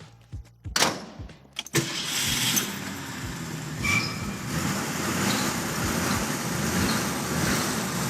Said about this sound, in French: Je vais vous faire écouter le son du moteur